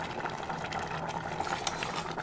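A pot of water with mustard greens for saag boils steadily, a soft continuous bubbling and gurgling at a moderate, even level with no voices.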